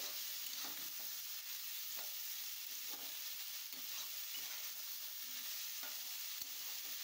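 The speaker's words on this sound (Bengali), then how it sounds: "গ্যাসটাকে এবার হাই ফ্লেমে রেখে সবজিগুলোকে ভেজে নেব মিনিট 3-4 সময় ধরে।" Shrimp with chopped beetroot and mixed vegetables frying over a high gas flame, a continuous dense sizzle punctuated by faint scraping and stirring taps, fairly quiet and steady.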